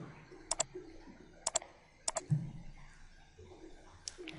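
Sharp, quiet clicks of a computer mouse while working in ERP software, coming in a few quick pairs spaced across the moment with soft room noise between.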